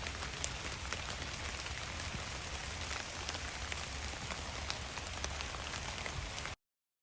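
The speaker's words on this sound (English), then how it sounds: "we're down to like a bare drizzle now." Light drizzle falls at a campsite in Great Smoky Mountains National Park, a steady, soft hiss of fine drops pattering on surfaces with scattered sharper ticks, continuous and even until it cuts off abruptly near the end.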